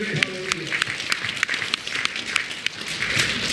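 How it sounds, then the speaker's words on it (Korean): Applause from a church congregation during a festival worship sermon, steady and moderately loud with distinct claps standing out, following a brief spoken phrase at the start. "깨닫는 사람 박수를"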